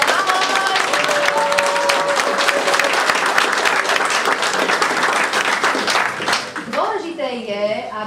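A crowd at a sports event breaks into sustained, dense applause greeting the athletes, loud and steady throughout, with voices mixed in and cheering rising near the end.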